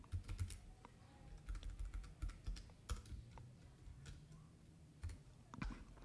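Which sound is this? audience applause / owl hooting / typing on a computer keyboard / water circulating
typing on a computer keyboard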